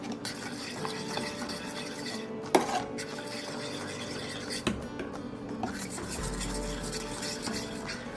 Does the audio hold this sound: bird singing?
no